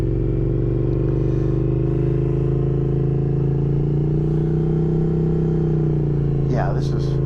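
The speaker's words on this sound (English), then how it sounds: "I like this bike, and I just started riding it." A 2023 Triumph Speed Twin 900 motorcycle being ridden, with a steady, low engine drone that swells slightly and holds under constant wind noise, and a voice speaking over it near the end.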